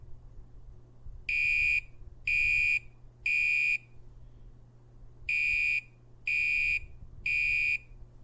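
A Gentex Commander 3 fire alarm horn blares in two sets of three long, loud, evenly spaced blasts separated by a short pause.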